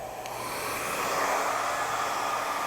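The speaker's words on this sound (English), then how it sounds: "The blow dryer is ready to go." A hair dryer blows steadily at close range while drying a styled hairdo, a constant airy whoosh with no talking.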